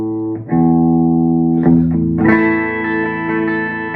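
An electric guitar fitted with new strings is tuned through an EVH 5150 III 50-watt 2x12 EL34 amp: sustained notes ring loud and close, each fresh pluck restarting the tone and re-sounding the chord as the pitch is adjusted.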